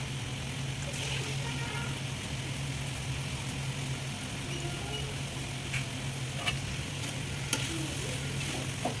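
Cabbage and chana dal curry with coriander leaves is stirred in a pan, soft sizzling and occasional spoon scrapes over a constant low hum, quiet and close.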